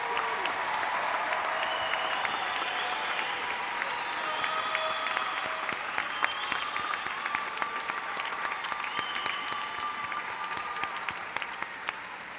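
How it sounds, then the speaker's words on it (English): An audience at a high school graduation ceremony applauds in a sustained, even wash of clapping from a large crowd, with a few faint voices mixed in. "Let's give them a big round of applause, everyone."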